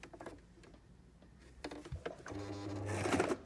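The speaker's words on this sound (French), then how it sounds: "je vais venir coudre sur ma ligne ici de départ, hein, ma ligne de patron" A sewing machine starts stitching along a pattern line, beginning with scattered taps and clicks and rising into a steady mechanical whirr that grows louder toward the end, heard close up with no talking.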